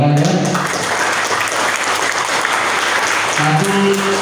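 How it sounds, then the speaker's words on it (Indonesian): Group of trainees at an indoor training session clapping together in sustained, loud applause, with a voice speaking briefly at the start and end. "sekarang saya akan minta teman-teman ada di semua tepuk tangan, silakan ya."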